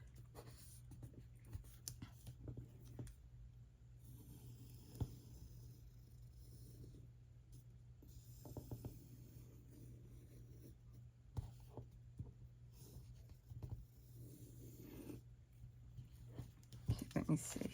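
A pencil scratches marks onto a Winnie the Pooh photo frame, faint close-up strokes and scrapes in short bursts over a steady low hum, with brief quiet speech now and then.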